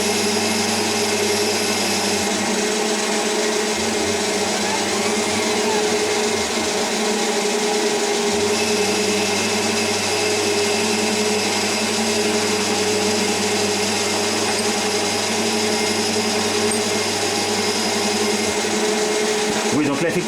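Wabeco metal lathe turning a steel workpiece in a home workshop, cutting a roughing pass along its length: a steady, continuous machining whine with broadband cutting noise and faint talk in the background.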